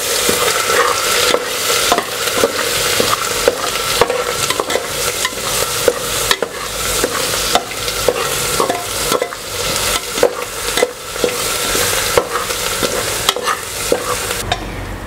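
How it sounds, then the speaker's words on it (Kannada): Masala spices for a crab ghee roast frying in a hot pan and being stirred steadily, with continuous loud sizzling broken by frequent scraping strokes of a spoon, no voices. "ಈ ಎಲ್ಲ ಮಸಾಲೆಯನ್ನು ಹಾಕಿ ಚೆನ್ನಾಗಿ ಒಂದು 2-3 ನಿಮಿಷಗಳ ಕಾಲ ಫ್ರೈ ಮಾಡಿಕೊಳ್ಬೇಕು"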